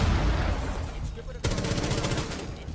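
A gunshot headshot in the Rainbow Six Siege video game, set amid rapid bursts of gunfire over a rumbling background, with a sharp crack and then quick repeated shots, fairly close.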